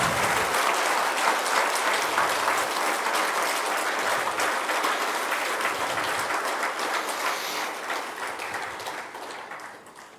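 An audience at a pracharak training camp breaks into loud, sustained applause, a thick wash of many hands clapping that holds strongly and then gradually fades toward the end.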